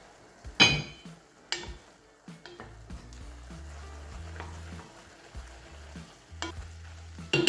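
Onions sweating in a pan for a steak sandwich, stirred now and then: soft sizzling under repeated scrapes and knocks of a utensil against the pan, close and fairly quiet, no talk.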